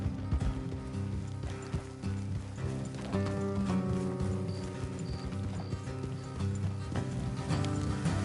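Horses clip-clop along a road in the Red Dead Redemption 2 video game, a steady, busy patter of hooves layered with tack jingles and ambient sound, moderately close and continuous, with no talking.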